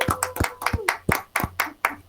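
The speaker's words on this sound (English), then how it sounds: "may I have a huge round of applause right now for Hannah Hayes." Sparse, distinct handclaps sound at a school district board meeting, roughly eight close claps in uneven rhythm. It suggests a few people clapping rather than a full room.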